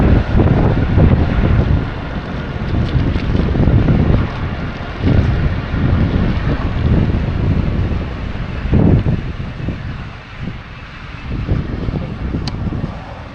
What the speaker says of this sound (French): Et un vent de malade.